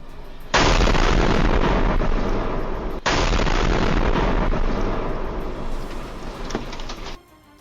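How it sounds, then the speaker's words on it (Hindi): A missile strike on a building in central Israel: a massive blast roars out suddenly and keeps rumbling loudly for several seconds, with a second jolt midway before the roar cuts off. "मध्य इजरायल में एक इमारत पर बम गिरने के बाद तेज धमाका होता दिखा।"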